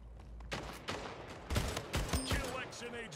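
Gunfire in the video game Splitgate, with several sharp bursts of shots standing out over a busy game mix, some faint talk and electronic effects in the background.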